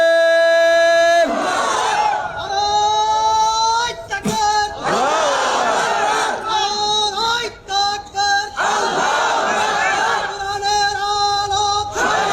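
A large crowd at a Bangladeshi rally chanting Allahu Akbar in answer to a takbir call, loud massed voices rising in several repeated waves that end in clear breaks between chants.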